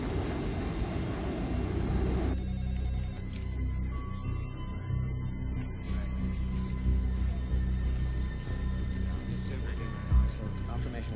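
Jet airliner roar in a film scene of a plane climbing toward a very high altitude, a steady, loud, broad engine rumble throughout, with a voice speaking over it.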